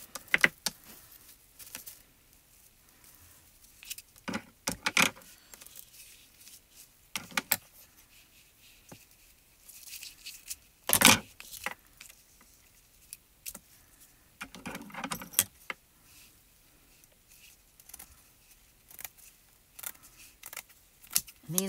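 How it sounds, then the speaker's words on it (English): Spellbinders scissors snip through sequin fabric in short, crisp cuts with pauses between them, close by and fairly quiet, with no talking. "And these are the new bigger scissors from Spellbinders. Very easy to cut through that."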